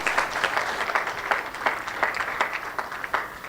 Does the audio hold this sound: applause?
yes